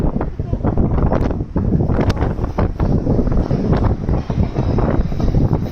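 Strong outdoor wind batters the microphone in loud, rumbling gusts that surge and fade irregularly, with the sun out overhead.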